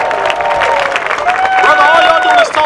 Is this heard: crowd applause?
yes